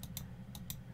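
Four faint, quick clicks from a computer mouse or keys sound in two close pairs during work in Blender's animation editors.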